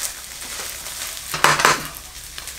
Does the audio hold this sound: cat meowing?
no